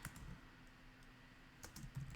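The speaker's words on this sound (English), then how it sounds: "And I'm going to type it in" Computer keyboard typing while entering a game name, a few soft scattered keystrokes with a brighter cluster near the end, quiet and close with a faint steady hum behind.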